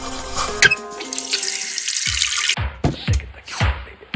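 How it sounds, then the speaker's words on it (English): Running water rinses aquarium sand for a turtle tank, a steady tap stream giving way to splashy bursts and sloshing as the sand is worked and water pours off in pulses. "Gave the sand a rinse."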